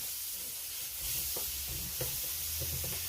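Pork meatballs browning in a frying pan, with a constant hiss of sizzling fat and faint soft pops, close and fairly even throughout.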